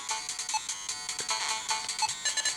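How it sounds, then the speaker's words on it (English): A small Odroid GO handheld console plays tinny, chiptune-like game audio through its built-in speaker, a bright, thin melody of quick repeated notes, close and fairly loud, with no talking. "So the speaker quality is, it's alright."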